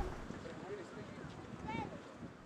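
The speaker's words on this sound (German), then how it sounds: "Nur der Wind ist ein bisschen heftig" Strong wind by the sea in Bulgaria buffets the microphone in a low, fluctuating rush that stays fairly quiet, with faint voices briefly audible underneath.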